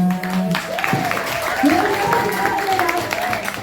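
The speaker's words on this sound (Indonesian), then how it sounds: "Sekali lagi tepuk tangan untuk Agusman." Classroom applause for a student named Agusman, a short burst of scattered clapping from a group of students mixed with a teacher's voice and background chatter.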